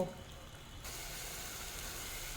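A spinach vegetable curry cooks in a pan after a splash of water, giving a soft, steady hiss and sizzle that steps up partway through and then holds evenly, with no voices.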